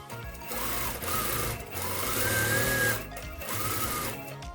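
A sewing machine runs in bursts, stitching the seam of a flared circle skirt, its motor whirring loudly and close in several short runs with brief pauses between them.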